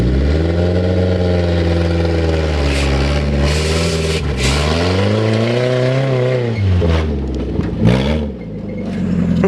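A Toyota RAV4 engine labors steadily while climbing a steep off-road hill in first gear, its revs rising and falling as the loud, close drone holds continuously with no talking.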